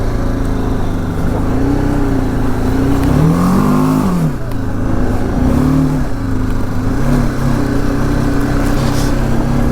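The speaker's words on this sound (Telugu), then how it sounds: "భలే వచ్చింది మన బండి ఆ వాటర్లో" A BMW motorcycle engine revs and strains steadily through a water crossing on the Sarchu to Chandigarh route, beneath a constant rushing wash of water, with no talking.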